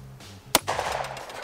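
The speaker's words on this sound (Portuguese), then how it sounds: "o que acontece se a gente atirar com o revólver do Hellboy em alguns alvos a queima-roupa" Hellboy replica revolver fired point-blank at a target: a single sharp, loud shot, close by, followed by a brief noisy burst of debris or reverberation and then quiet.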